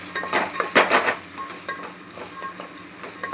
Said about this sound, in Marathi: आता आपण यात भाज्या ॲड करूया. त्याला मस्त असं आपण एकजीव करूया.